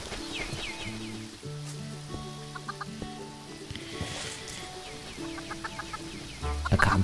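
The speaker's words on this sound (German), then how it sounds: "Das Hühnchen schwimmt." A chicken in Minecraft clucking in a series of short, bright, tonal calls that come in irregular bursts, with faint game sounds underneath and a louder burst of clucks near the end.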